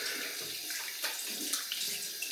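Tap water runs steadily and softly while shaving gear is rinsed, a continuous hissing stream with small splashes and no talking.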